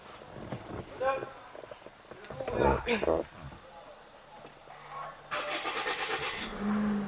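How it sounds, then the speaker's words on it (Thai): A 2014 Toyota Yaris 1.2 G starts up near the end with a sudden cranking catch and a steady idle hum, after someone speaks beside the car. "เดี๋ยวสตาร์ทเครื่องยนต์ให้พี่ๆได้ดูกัน"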